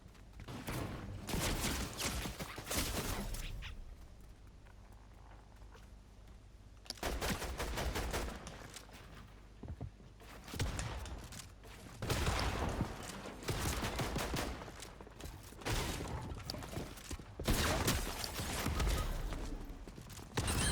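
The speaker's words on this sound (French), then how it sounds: "C'est ça, c'est un minigun." Rapid bursts of minigun fire from a Fortnite match, several loud sustained volleys separated by short quieter pauses, with no talking.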